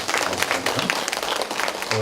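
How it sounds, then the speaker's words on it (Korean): Steady applause from an audience at an awards ceremony, dense clapping filling the whole stretch with a faint voice or two mixed underneath. "여러분 이 두 분께 박수 한번 힘차게 쳐주십시오."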